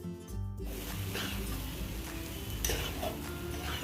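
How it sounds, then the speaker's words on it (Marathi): Steamed chana dal stir-fried in a pan for a Maharashtrian dry besan dish, with continuous scraping and stirring, spoon clinks against the pan and a low steady sizzle. "वाफवलेली डाळ टाकायची चार ते पाच मिनिट डाळ परतून घ्यायची"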